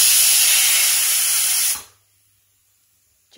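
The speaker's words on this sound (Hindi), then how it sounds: "ये सीटी पे सीटी मारे जा रहा है मेरा कुकर।" A home pressure cooker lets off a loud, steady blast of hissing steam and whistle for nearly two seconds, then cuts off abruptly into near silence.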